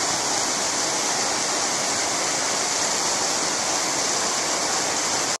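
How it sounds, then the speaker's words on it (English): Waterfall on the Timpanogos hiking trail, a loud steady broadband roar of rushing water, continuous and close with no voices. "there's another waterfall."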